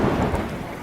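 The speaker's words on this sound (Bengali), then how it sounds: "আকাশে ভারী মাত্রায় বিদ্যুৎ চমকাচ্ছে।" Heavy thunder rumbling with lightning in a cartoon night scene, a loud, dense roll over falling rain that fills the whole short moment.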